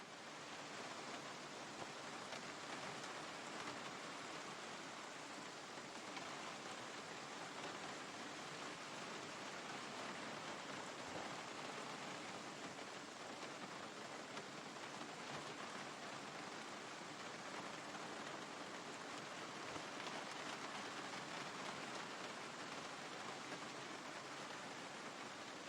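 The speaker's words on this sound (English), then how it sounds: "rain" Steady rain in the video game Project Zomboid hisses continuously and evenly for the whole stretch, a dense uniform wash at low volume with no voices or other events.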